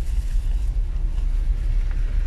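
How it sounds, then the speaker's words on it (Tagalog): Strong typhoon wind roars steadily with deep, rumbling buffeting against the microphone, a constant low blustering with no pauses. "magdamag na malakas ang hangin dito"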